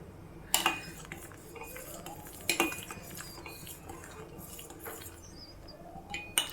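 Ragi porridge being stirred in a cooking pot, with a utensil scraping and clinking against the pot in a few sharp knocks over a steady low background, close by and with no talking.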